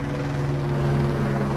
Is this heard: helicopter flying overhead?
yes